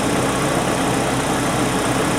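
A car engine idles steadily with no load, a constant broadband rumble and hum that stays even and fairly loud for the whole stretch, with no talking.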